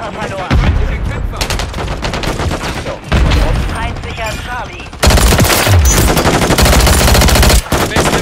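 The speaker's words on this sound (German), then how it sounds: "Hier unter Beschuss." Heavy automatic gunfire in a Call of Duty Modern Warfare 3 Domination match keeps rattling in dense, loud bursts, layered with distant shots and in-game radio chatter.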